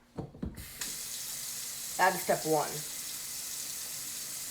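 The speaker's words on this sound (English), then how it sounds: "First you're going to get hot water." Hot water runs from a kitchen sink tap as a steady hiss throughout, with someone speaking briefly over it partway through.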